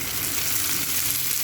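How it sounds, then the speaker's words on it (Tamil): Onion and tomato sizzle while frying in a pan, a steady bright hiss that holds evenly across a brief moment, heard close and alone. "பாருங்கள், ஆனியன் நல்லா ஃப்ரை ஆகிடுச்சு"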